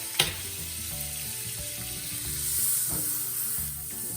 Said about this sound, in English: we're going to just put a little bit of butter in the pan. And it's sizzling away already